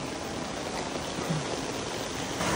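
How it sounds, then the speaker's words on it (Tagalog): Water pours steadily into a crayfish farm pond through an inlet, a continuous broadband rush like a small stream, close and fairly loud throughout with no talking. "Ito yung pumapasok na tubig."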